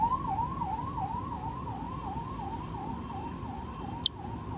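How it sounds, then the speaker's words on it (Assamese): An ambulance siren wails on a road in Assam, a rapid rising-and-falling electronic tone repeating steadily at moderate distance, with a single sharp click near the end. "এম্বুলেন্স আহিব দিছে সিফালৰ পৰা"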